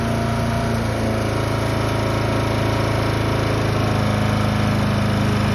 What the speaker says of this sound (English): Let that fan cool that engine down.